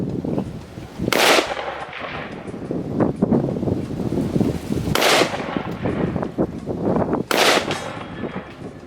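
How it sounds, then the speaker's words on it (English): Shots from a Radical Firearms RF15 AR pistol fired outdoors at a steel target about 105 to 110 yards away: three loud, separate cracks spaced a few seconds apart over wind noise on the microphone. "Let's see if I can get a few shots on the steel."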